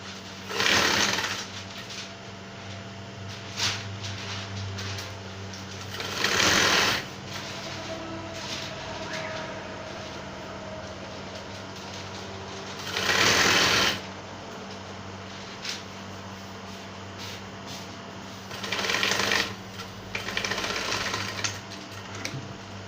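A sewing machine stitches the placket of a senator top in four short, loud bursts of rapid whirring, separated by quiet pauses with no talk.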